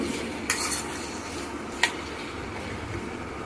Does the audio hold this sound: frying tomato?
yes